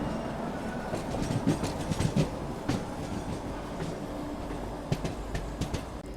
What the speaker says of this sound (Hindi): क्या खूबसूरत डिपार्चर हो रहा है भोपाल जंक्शन से।